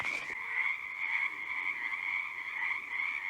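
A chorus of frogs croaking continuously, a dense steady trilling drone that holds at an even level throughout with no pauses.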